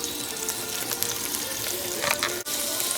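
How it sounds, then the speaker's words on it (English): Carrots sautéing in butter and oil in a pan over medium-low heat, with a steady close sizzle and light crackle and a brief stir near the end. "as you can see, our carrots are starting to cook"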